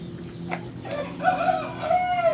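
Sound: chickens clucking

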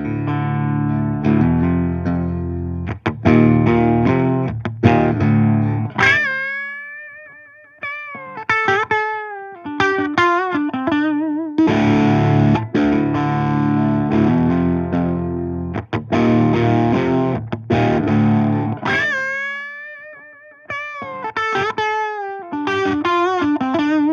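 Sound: electric guitar through Rodenberg Commander II distortion pedal and looper

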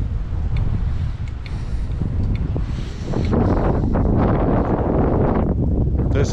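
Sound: wind blowing

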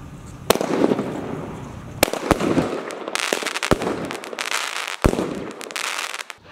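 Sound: pyrotechnic firework battery being set off

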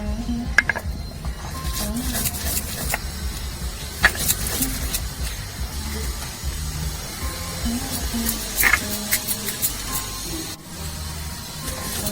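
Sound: grinding dried chillies, cumin and black pepper into paste

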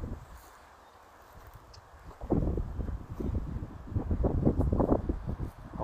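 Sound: wind blowing

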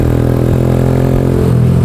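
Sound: motorbike being ridden in busy street traffic

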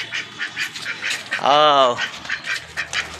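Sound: new male duck quacking

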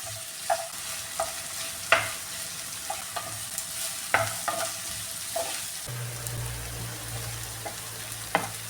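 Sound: onions frying in a pan for chicken biryani

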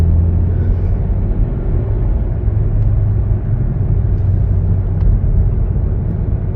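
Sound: Volkswagen Golf VII 1.4 TSI 122 hp accelerating

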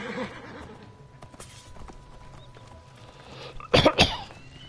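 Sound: horse neighing in video game

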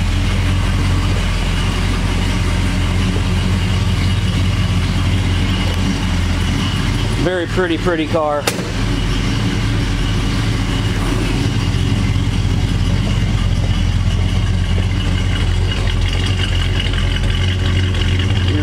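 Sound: 1969 Plymouth GTX engine running

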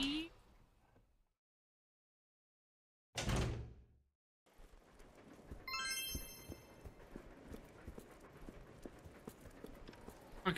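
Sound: door opening in Resident Evil Zero video game

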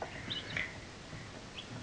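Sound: 8-day-old chicks peeping under a heat lamp

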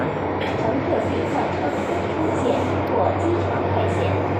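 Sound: train interior rumble

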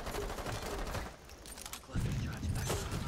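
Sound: Fuze cluster charge detonating in Rainbow Six Siege video game

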